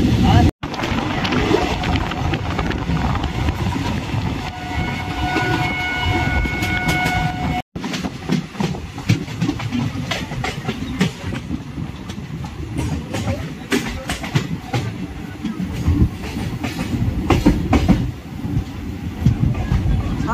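A passenger train on the Krishnanagar to Azimganj line rolls along at speed, with a loud, steady rumble and rhythmic clatter of the wagons heard from inside. Nobody speaks.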